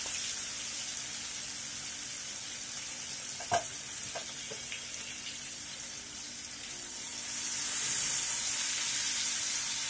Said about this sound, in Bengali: দিয়ে দিচ্ছি কুচি করে রাখা বড় সাইজের 2টি পেঁয়াজ।